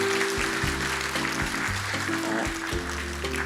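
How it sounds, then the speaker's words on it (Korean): A church congregation at a Sunday afternoon service applauds graduates, a steady wash of clapping from the room, moderately loud, lasting a few seconds with no speech over it. "다시 한번 11분의 수료자들에게 큰 박수 부탁드립니다."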